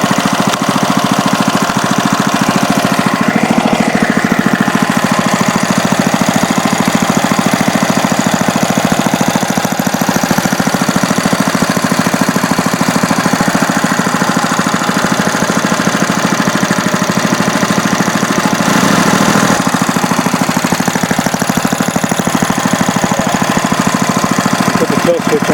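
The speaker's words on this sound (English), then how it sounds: "Seems to be a good little engine." A 1985 Briggs & Stratton 3 HP small engine runs steadily and loudly up close, with a constant rapid rattling chug that holds without a break.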